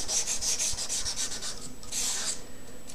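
Scrubbing a rusted knife with oil, a rapid rhythmic back-and-forth rubbing with a short pause and another burst, close and steady, with no talk.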